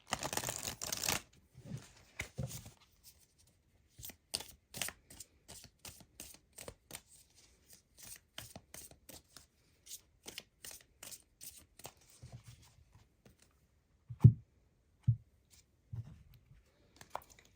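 Tarot cards are shuffled and drawn up close: irregular bursts of crisp card snaps and riffles, separated by short quiet gaps, with an occasional soft thump as cards are set down.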